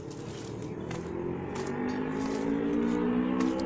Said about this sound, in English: I can hear the motorcycle. Cars.